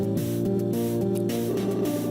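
Mechanical shutters opening in Cave Story, a low droning hum with stepped, repeating tonal pulses that shift pitch every quarter second, steady and electronic without any voices.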